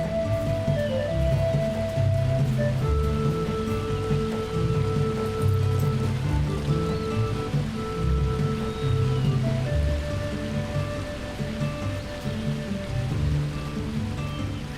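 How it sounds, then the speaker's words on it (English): Steady rain and flowing water ambience in a Hobbit-themed video game, a continuous dense patter over a low river-like wash with faint tonal game music threads running through it, no talk. "I love that water effect in the rain."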